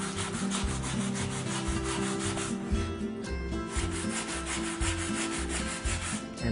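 A wooden shelf board for a set of contemporary shelves is sanded flat and smooth, giving a steady, continuous abrasive rubbing with a low mechanical hum beneath it, close and unbroken, with no talking.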